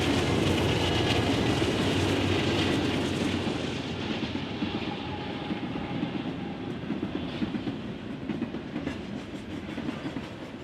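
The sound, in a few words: BNSF westbound general freight train passing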